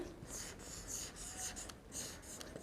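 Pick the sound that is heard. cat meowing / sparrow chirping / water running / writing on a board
writing on a board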